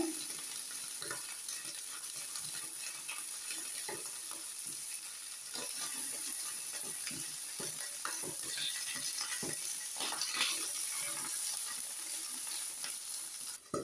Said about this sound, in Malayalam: സ്റ്റൗ മുഴുവനും കല്ലിലെല്ലാം തെറിക്കുന്നുണ്ട് എണ്ണ